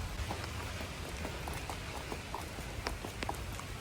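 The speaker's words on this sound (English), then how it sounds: "now it's freezing and raining" Steady cold rain falls outdoors, a dense even patter with scattered sharper drops tapping close by throughout, with no voices.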